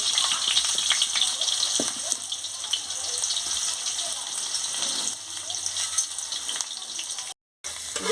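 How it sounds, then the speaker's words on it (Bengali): Potato pieces fry in hot oil in a kadai, making a continuous dense sizzling hiss that stays steady, broken only by a brief cut near the end. "তেল গরম হয়ে গেছে, আলুটা দিয়ে দিচ্ছি, আলুটা একটু ভেজে নেব।"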